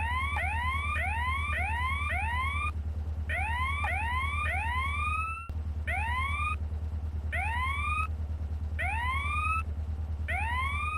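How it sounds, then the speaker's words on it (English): A police siren in the video game GTA San Andreas Multiplayer (SA-MP) wailing in rapid rising yelps, repeated in bursts with short gaps, loud and steady over a low engine hum. "there's no way to turn off the siren"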